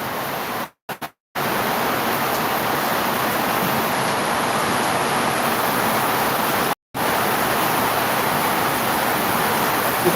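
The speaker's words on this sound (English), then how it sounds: "That's some quality white noise." Steady, loud hiss of white noise plays from a TV, broken by a few brief silent dropouts near the start and again later.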